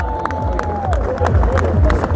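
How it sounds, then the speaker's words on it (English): A crowd claps and cheers at a veterans' rally against extremism in Birmingham, with close voices, shouts and chatter mixed into the noisy outdoor hubbub. "Give yourselves a big clap"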